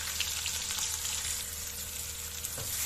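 Onion frying in hot oil with cumin and dried and green chillies for a mixed-vegetable dish, a steady close sizzle and crackle with no voices.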